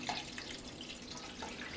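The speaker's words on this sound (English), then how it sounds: "Then you want to add enough water so that your corned beef is fully covered, about 2 inches with water." Water pours into a pot holding corned beef, a soft, continuous trickling stream heard faintly and close by for a couple of seconds.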